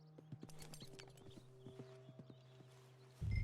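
Horse hooves clip-clop at a steady walking pace in the Red Dead Redemption 2 video game, fairly close and clear over a low ambient hum, with a louder thump at the very end.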